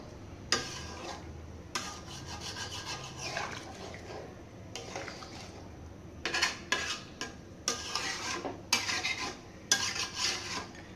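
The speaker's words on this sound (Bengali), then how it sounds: "এটা দিয়ে একটু নাড়িয়ে দেবেন সুন্দর করে চারি সাইড দিয়ে মশলা লেগে আছে" A spoon scraping and knocking around a pot as mutton is stirred with spices and hot water, bursts of clattering and rubbing separated by short pauses, close and fairly clear.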